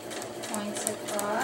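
Block stitching on a winter tarp tie-out point sets a sewing machine running steadily under a person's voice, the motor's hum and needle chatter continuous and moderately close.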